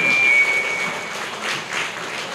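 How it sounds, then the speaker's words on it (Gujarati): Audience applause at a talk, a dense steady wash of many hands clapping together, fairly loud and continuous for a couple of seconds. "એમના માટે આપણે જોરદાર તાળી"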